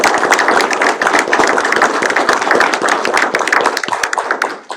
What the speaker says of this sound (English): So I hope that the board will be willing to congratulate her now with a round of applause.